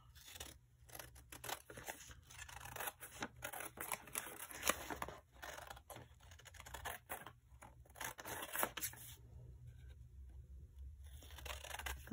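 Scissors snip through coffee-dyed paper while cutting out a pocket window tag craft, a close, quiet run of repeated crisp cuts and rustling paper with brief pauses between strokes.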